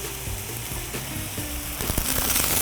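Diced eggplant sizzles steadily in a hot, oily pan for shakshuka, a loud, close frying hiss that runs throughout with a few small crackles and pops, with no talking.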